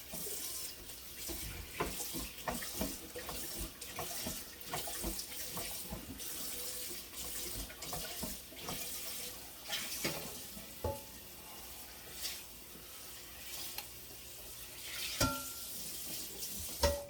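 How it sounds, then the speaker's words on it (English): A kitchen tap runs into a cooking pan being washed out after making spaghetti and meatballs, with close splashing, scrubbing and occasional clanks of metal against the sink. "I'm going to clean out this pan that I used"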